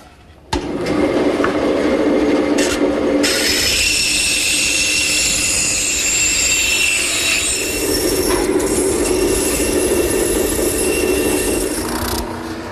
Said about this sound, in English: A little bit of touch-up with my drum sander